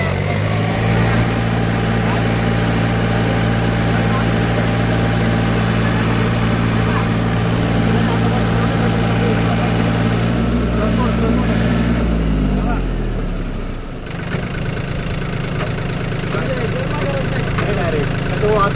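Farmtrac Atom 30 hp tractor engine running close by, a loud steady drone that shifts pitch and drops briefly near the end before settling again.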